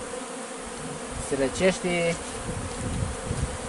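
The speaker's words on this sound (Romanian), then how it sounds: "Avem aici niște albine care trebuie să o dăm încolo" Honey bees buzz in a steady hum close by at an open hive in spring, while a voice speaks briefly over them.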